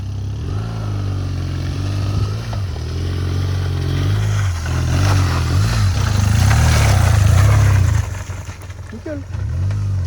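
A motorcycle engine rumbles and revs unevenly at close range off-road, rising and falling over rough ground, with clattering and some voices mixed in.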